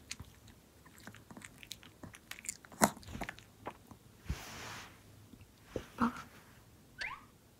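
An eleven-year-old dog chews its medicine up close, with wet crunching bites and squishy mouth noises scattered irregularly over several seconds in a quiet room.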